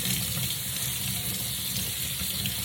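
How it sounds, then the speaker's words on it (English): Warm water runs steadily from a tap in a sink, a continuous close splashing rush with no talking. "I'm gonna run it under some warm water here and just squeeze it"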